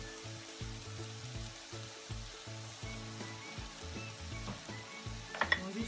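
Garlic frying in a pan for a fish filling, a soft, steady sizzle with a low rhythmic hum underneath and a few brief clinks near the end.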